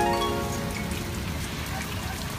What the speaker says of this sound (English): the rain itself is dying down